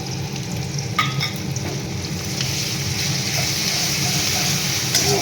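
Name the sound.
spices, onion-chilli paste and garlic frying in oil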